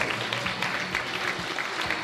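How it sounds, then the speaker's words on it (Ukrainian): Audience at a university teachers' dance competition final applauding, dense steady clapping throughout with no break. "Аплодисменти."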